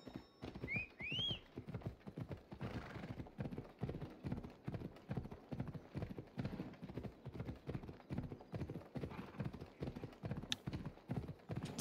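A horse gallops in Assassin's Creed Odyssey, hooves pounding in a fast, even rhythm close by, with a high neigh at the start.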